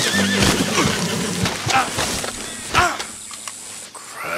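A Shire horse neighs and whinnies loudly in Red Dead Redemption 2, with snorts and clattering hooves, followed by quieter ambient sounds.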